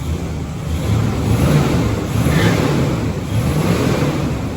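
A Cadillac Seville's engine revs while it drives on the road, a steady, close broadband roar mixed with wind buffeting that swells slightly midway and stays constant throughout, with no talking.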